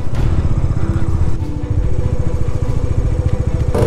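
A motorcycle engine labors in first gear on a high mountain road near Gurudongmar Lake in North Sikkim, giving a loud, close, steady throbbing drone with rapid even pulses throughout.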